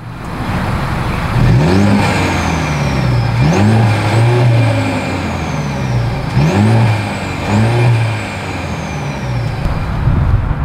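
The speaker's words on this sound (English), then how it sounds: "As always, here is that exhaust clip." A 2024 Mercedes-Benz E 350 engine revs repeatedly in short bursts through its exhaust, each rise falling back to a steady idle rumble, loud and close, about four revs with no talking.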